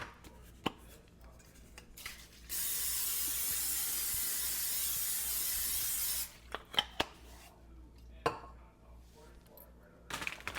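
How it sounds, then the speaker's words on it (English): A continuous hissing spray of cooking spray onto a 9x13 baking pan lasts a few seconds, bracketed by light clicks and handling noises of the pan. "you want to give it a little spray"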